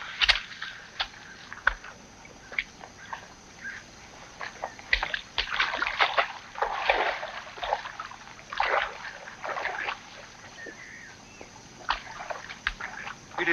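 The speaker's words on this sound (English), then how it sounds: "James, give me a hand with the boat." A rowboat is handled and shoved into a river, with irregular wooden knocks, scrapes and splashes, then sloshing and trickling water, fairly close and moderately quiet, without talk.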